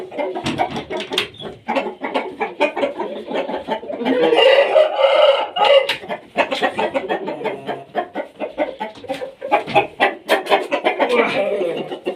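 Roosters at a poultry yard crow and cluck repeatedly at close range, with one long crow in the middle. Someone talks over the birds throughout.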